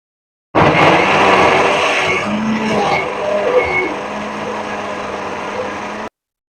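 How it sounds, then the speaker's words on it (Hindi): A kitchen mixer grinder whirs steadily as it blends onion, garlic and ginger into a paste, a loud continuous motor drone that starts abruptly, shifts pitch slightly midway as the load changes, and cuts off cleanly after about five and a half seconds. "प्याज और लहसुन अदरक को मैंने कर लिया ग्राइंड"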